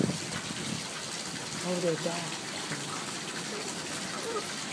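A hose pours water onto a roof gutter in a steady, gushing wash, with people talking briefly over the constant flow.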